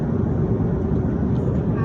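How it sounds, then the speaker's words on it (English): Steady broadband roar of an airplane cabin in flight, a continuous engine and airflow drone filling the whole clip at an even, moderately loud level with no distinct events. "It's amazing how we could fly like this in an airplane"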